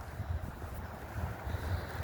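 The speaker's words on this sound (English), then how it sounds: "I'm gonna head back because it's a bit windy out here." Low rumbling wind buffeting the microphone outdoors, steady and gusty, with no voices.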